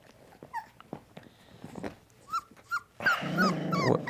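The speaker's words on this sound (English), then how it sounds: "I heard that growl." Newborn puppies whimper and yip in short bursts, followed by a low, rumbling growl with squeaky cries layered over it near the end.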